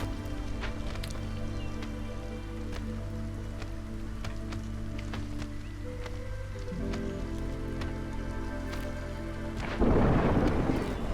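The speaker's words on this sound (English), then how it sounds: "Here comes the storm" A thunderstorm rolls in during a game of Against the Storm, with steady rain and a soft musical drone under it, then a loud burst of thunder and noise near the end.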